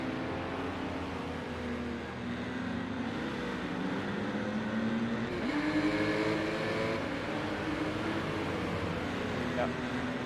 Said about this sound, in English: These Porsches flying out ahead.